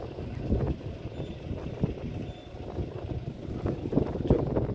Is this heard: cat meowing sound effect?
no